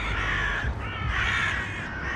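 Crows caw loudly and close at an evening feeding, with gulls among them: harsh overlapping calls in two long bursts over a busy background of birds.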